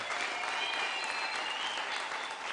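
A church congregation applauds during a gospel service, a dense and steady wash of clapping from many hands that lasts throughout at moderate distance, with no talking over it.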